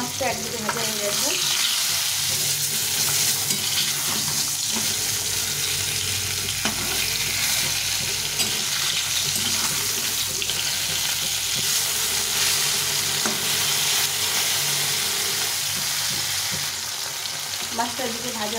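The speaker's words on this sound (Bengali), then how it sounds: "এই মাছটা একদিকে ভাজা হয়ে গেছে" Fish sizzles in hot white vegetable oil while frying on one side. A continuous close crackle runs throughout, with occasional soft scrapes and clatters from a utensil in the pan.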